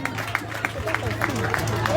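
Audience clapping at a French-speaking gathering, a steady patter of hands with crowd murmur underneath and a low hum running throughout, moderately close and continuous.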